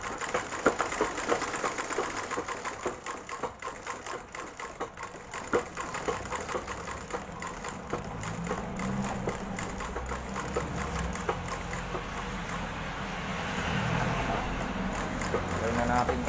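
A sewing machine stitches leather for a handmade sandal, running in a steady rapid mechanical patter at close range with a continuous hum, while someone talks intermittently over it.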